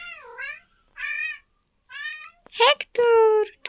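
Several clear cat meows come in a series of separate, close, fairly loud calls, a few rising and falling, followed by a longer, louder wail, with no talk over them.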